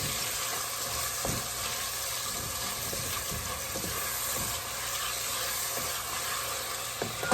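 Onion hits a hot pan with browned chicken pieces for arroz con pollo, giving a loud, steady, close sizzle with faint clicks of stirring now and then and no talk.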